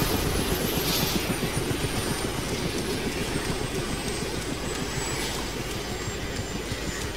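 Helicopter in the video game Arma 2 DayZ, a steady broadband rotor and engine drone that holds at a constant level for several seconds, with no talk over it.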